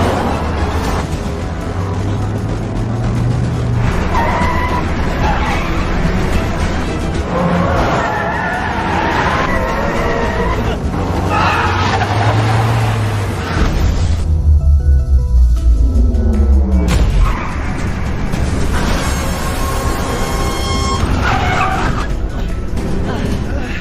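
A movie car chase fills the scene with roaring engines and long tyre skids, loud and continuous, with voices heard at times.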